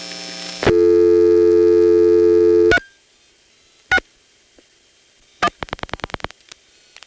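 Register sender dialing out through a step-by-step telephone switch: a steady tone cuts off, then come sharp isolated clicks and a quick train of rhythmic dial pulses, crisp and close.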